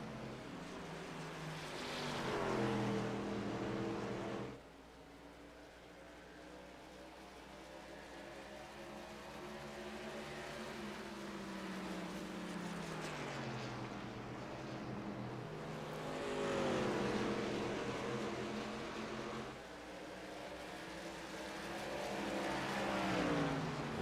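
Short Track Superleague racing trucks circle a short track, engines droning and rising and falling in pitch as they pass, heard at a distance and fairly faint, with no talk.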